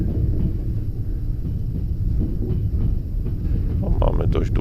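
A locomotive runs on the rails in the Trans Siberian Railway Simulator game, giving a steady loud low rumble with faint rhythmic clatter and a slight sway, while someone talks over it.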